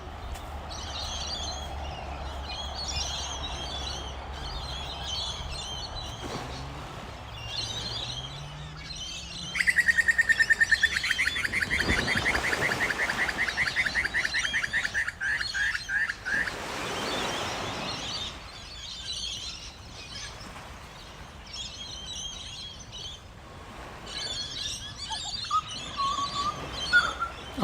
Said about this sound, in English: Do you hear the lorikeets?